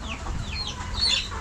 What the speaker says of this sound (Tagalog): Hinahanap ng mga manok yung mais eh